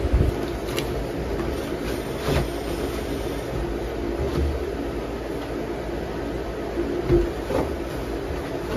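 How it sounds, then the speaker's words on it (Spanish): An electric fan runs in a room at home, a constant close whooshing hum that holds steady throughout with faint clicks and no speech. "Se escucha el ruido, es el ventilador que tengo prendido"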